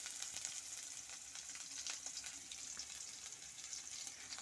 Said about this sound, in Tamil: கடுகு கொஞ்சம், சின்ன வெங்காயம் போட்டுக்கிட்டேன்.